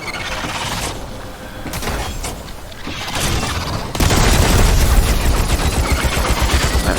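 Rapid weapon fire in the video game Crucible, a spun-up gun firing at a fast rate, dense sustained bursts that grow louder and heavier partway through, alone without speech.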